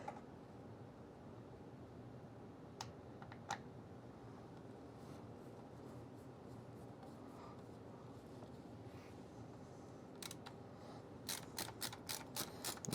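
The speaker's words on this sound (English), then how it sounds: "We'll start ratcheting that now." A ratchet tightens a screw during a theater room build, with faint scattered clicks that gather into a quick run of ratcheting strokes near the end, over a quiet background.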